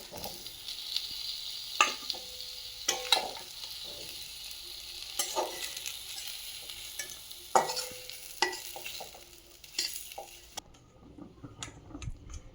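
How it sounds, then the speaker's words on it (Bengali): Plantain and pointed gourd fry in oil in a pan, giving a soft, continuous sizzle. Scraping stirs and clinks from the spatula break in every second or so, and no one speaks. "কলা আর পটলটা এরকম লাল লাল করে আর ভাজে নিয়েছি, যে ভাজা হয়েও গেছে"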